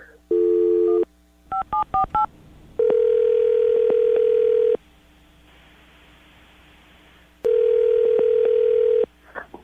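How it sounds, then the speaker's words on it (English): A phone line in a radio studio sounds a steady dial tone, then a quick run of keypad dialing beeps, followed by more long stretches of tone and a quiet gap. "I'm going to dial the phone number right now, get her on the phone"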